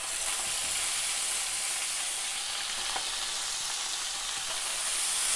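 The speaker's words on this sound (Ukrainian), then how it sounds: "Перевертаємо наш лосось." Salmon fillet, skin already crisped, sizzles steadily in a hot frying pan after being turned, giving a dense, even, close hiss of frying with a few small pops and no talking.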